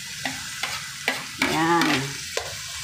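Ground meat sizzles in a pan for a sautéed vegetable dish, with sharp spatula clacks against the pan every half second or so and a brief squeaky tonal scrape in the middle, close and fairly loud.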